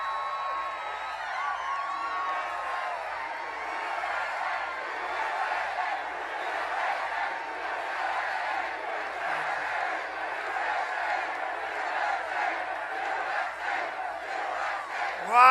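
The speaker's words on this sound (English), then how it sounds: "What a crowd, what a crowd." A big outdoor rally crowd for President Donald Trump in Carson City, Nevada cheers, chants and shouts in a continuous, loud roar with rhythmic chanting pulses running throughout.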